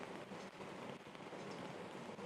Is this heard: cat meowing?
no